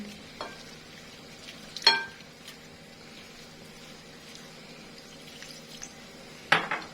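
A spoon stirs flour and water into a batter for a Turkish dessert in a bowl, giving a soft continuous scraping with a few sharp clinks against the dish, close and quiet with no talking.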